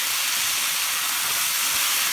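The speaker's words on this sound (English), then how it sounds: "You're gonna hear it sizzle, that's okay." Tomato sauce poured onto rice in a hot pan for Spanish rice sizzles with a steady, loud, broad hiss that lasts the whole moment without a break, and no talking is heard.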